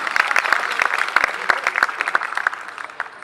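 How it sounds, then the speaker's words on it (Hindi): An audience at a literary talk breaks into applause, a dense burst of many hands clapping close and loud, easing off slightly toward the end. "आप लोग तालियां बजा सकते हैं"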